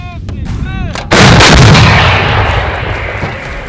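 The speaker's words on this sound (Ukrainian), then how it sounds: "На запорізькому напрямку гаубиці FH-70 нищать ворога." A single loud, booming blast from a 155 mm FH-70 howitzer erupts after a second of quiet, then a long rumbling roar slowly fades away.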